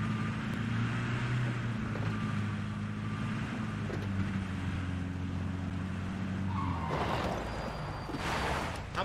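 A car in the PUBG video game drives with a steady, loud engine drone, then rough scraping bursts near the end suggest skidding. No one talks.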